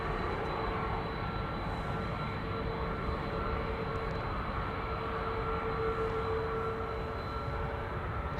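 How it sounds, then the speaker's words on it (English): A 13-year-old Malta Cargo Airbus A330-200 freighter departs Schiphol, its jet engines a steady, broad roar that stays loud and constant, with no voices over it. "Malta Cargo to Doha, flight 6125, an A330-200, 13 years old"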